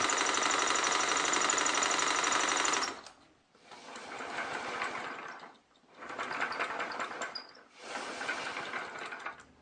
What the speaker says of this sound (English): I'm actually using the air engine to pump air to power the other air engine